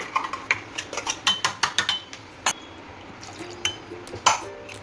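A spoon stirring tamarind pulp chutney with chilli, salt and coriander-cumin in a bowl, producing a run of quick, close clinks and wet scrapes that thin out into a few scattered taps.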